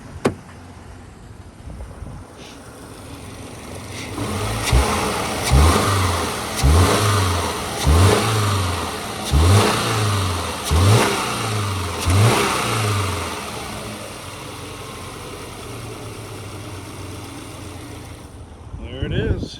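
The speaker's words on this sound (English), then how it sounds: "Rev it up a little bit here." A 2011 Subaru Outback Limited engine, heard up close under the hood, is blipped repeatedly in a rhythmic series of about eight quick revs before settling back to a steady idle.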